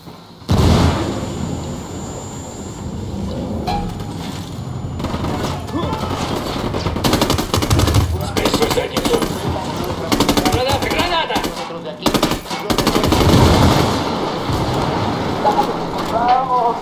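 Machine gun fire in Ghost Recon Wildlands, with bursts of rapid gunshots and booms scattered across the stretch, loud and close, alongside someone speaking at points.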